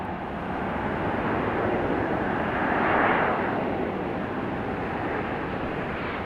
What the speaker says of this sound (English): Nice smooth touchdown from CRJ.